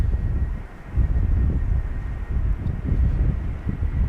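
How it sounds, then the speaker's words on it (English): An Air Arabia Morocco Airbus A320 lands at Schiphol in gusty crosswind. A steady low roar of jet engines blends with heavy wind buffeting on the microphone, loud and continuous. "Air Arabia Morocco, arriving from Nador in Morocco, A320."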